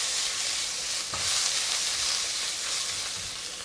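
Beef and vegetables for japchae stir-fry in a hot pan, giving a continuous loud sizzle with a few soft scrapes and clacks from stirring. No voices are heard.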